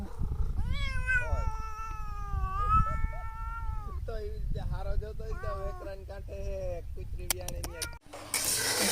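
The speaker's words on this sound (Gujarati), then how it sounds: "એલી ઓલો મીંદડો" A tomcat at a village farm yowls in long, drawn-out, wavering meows, one after another, loud and close, with a short noisy burst at the end.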